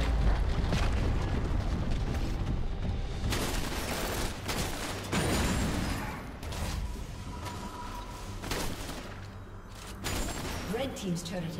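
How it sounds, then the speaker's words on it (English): A turret collapsing in League of Legends, heavy booming blasts and crumbling impacts over dense battle effects, with game voices layered underneath. "Red team's turret has been destroyed."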